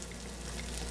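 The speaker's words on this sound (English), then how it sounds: "I saved just enough so that I could saute the garlic" A soft, steady sizzle of garlic sautéing in a frying pan, faint and continuous.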